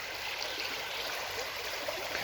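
The Bosvigo River rushes through a tunnel as a constant broadband wash of flowing water, steady and enveloping with no pauses.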